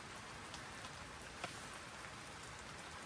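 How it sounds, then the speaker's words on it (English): Steady rain patters on a pop-up camping shelter in autumn, a dense, even wash of drops with an occasional slightly louder drip, faint and continuous. "I would have brought that if I'd known I was going to be in the rain like this."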